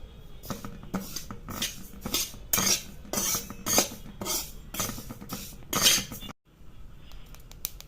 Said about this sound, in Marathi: एखाद मिनिटात परत परतवले की लगेच असे तिळ उडायला सुरुवात होती